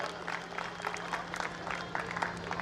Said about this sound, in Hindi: तहे दिल से बड़ी तालियां बजा के जीत राजपूत का स्वागत है।